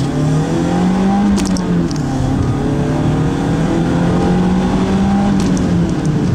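A 1995 BMW 318i E36 pulls hard in first gear, its engine note climbing steadily and loudly over several seconds, heard close up from inside the car with no talking.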